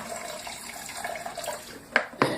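Steeped brewing grains drain in a strainer, a soft continuous trickle of liquid running close by, with two brief louder splashes near the end.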